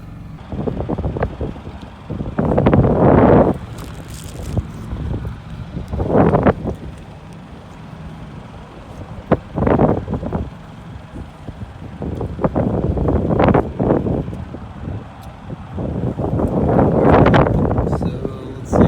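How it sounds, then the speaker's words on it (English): Wind gusting outdoors beside a van, rising and falling in loud buffeting rushes against the microphone, with lulls between the stronger blasts. "Wind is blowing."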